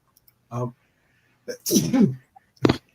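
A single sharp sneeze near the end, after a short vocal sound and a stretch of conversation between people.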